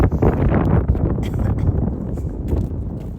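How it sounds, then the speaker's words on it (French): Strong outdoor wind buffeting a microphone, a loud, continuous low rumble with gusty surges throughout. "Il y a du vent, mais moi j'adore"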